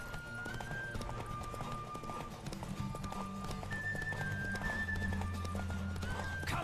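Horse galloping in the video game The Witcher 3, rapid rhythmic hoofbeats over game music with a low drone and sustained tones, fairly quiet, with a faint voice in the background.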